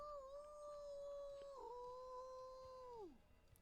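A werewolf in The Sims 4 howls in one long, sustained, wavering cry that holds steady, dips slightly midway, then slides downward and fades out, clear and alone.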